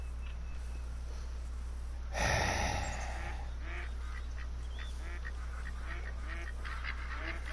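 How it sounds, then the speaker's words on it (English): Ducks calling around water in the hunting video game theHunter: Call of the Wild, a scatter of faint, distant quacks repeating through a steady outdoor ambience, after one louder rushing burst. "There's so many ducks. God, they never shut up."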